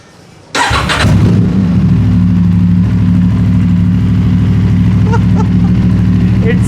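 An Aprilia RS 457 motorcycle fitted with a GPR Ghost Inox full-system exhaust, DB killer removed, cranks and fires into a loud, steady, bassy idle that holds alone close to the mic.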